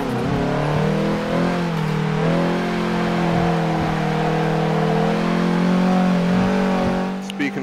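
Race car engine in Forza Motorsport 7 drones loudly and steadily through a lap, its pitch rising and falling with shifts, while someone talks over it.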